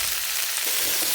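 Curry leaves dropped into hot oil while cooking a Kerala ivy gourd stir-fry, giving a loud, dense, continuous crackling sizzle with no voices over it.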